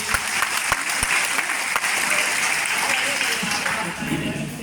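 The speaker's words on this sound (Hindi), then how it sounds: "एक बार जोरदार तालियां।" Loud, sustained audience applause at a business meeting, dense clapping from a large crowd filling the space evenly throughout, with a few sharper claps standing out near the start.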